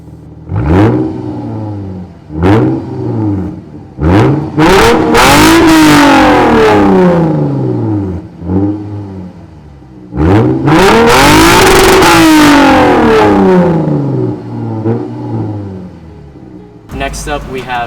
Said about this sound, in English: here I have a custom RCF Invidia exhaust.